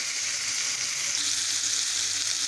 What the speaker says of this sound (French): je suis parti sur la cuisson aussi des aubergines, donc je travaille sur deux poêles